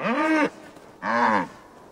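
Two long, deep moos from a cow in Assassin's Creed Valhalla sound close and clear against quiet background ambience, separated by a short pause.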